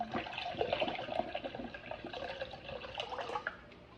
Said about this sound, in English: I'm gonna add probably 2 to 3 cups of water.